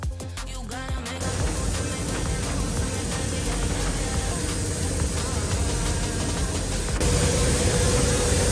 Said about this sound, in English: coat was applied in a controlled environment using professional spray booth system